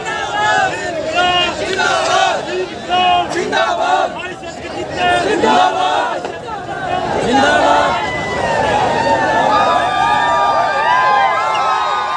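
A large marching crowd of protesters in Karnal shouts and cheers as it moves, loud overlapping voices and rhythmic chanting rising and falling, with whistle-like tones and a dense babble filling the scene nearby.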